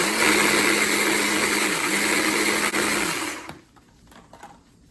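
A grinder whirs loud and steady as it grinds ground coriander with other spices for Indonesian sweet beef, then cuts off and leaves a quiet tail.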